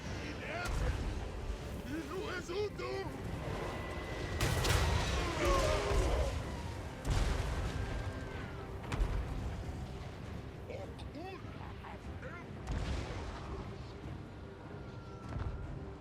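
Repeated booming cannon blasts in Total War: Warhammer 3 sound over continuous battle noise, with heavy thuds scattered throughout and voices speaking underneath.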